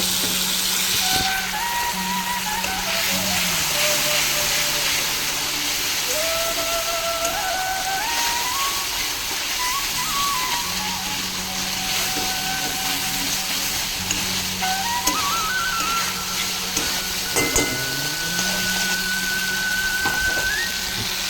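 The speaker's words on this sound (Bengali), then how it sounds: "এবার আমি ওই মাছটাতে অল্প কিছু জল দিয়ে নেবো যাতে মাছটা না পড়ে যায়" Water poured into frying Bombay duck (lota fish) curry, setting off a steady, dense sizzle and simmering hiss that runs the whole time under gently stepping background music.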